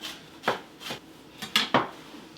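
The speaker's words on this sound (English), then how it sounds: "then I'm just going to slice it thin" A knife slicing rolled greens thin on a cutting board, five crisp cuts at uneven intervals, close and moderately loud, with no speech.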